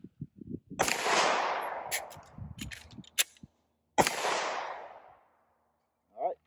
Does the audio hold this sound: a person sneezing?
no